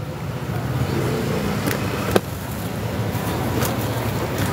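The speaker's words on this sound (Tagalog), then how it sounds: "Grabe, sobrang traffic, Carla." Busy road traffic in Novaliches, with a steady wash of car and motor-vehicle noise and engines passing close by, plus a few brief knocks, one sharper than the rest.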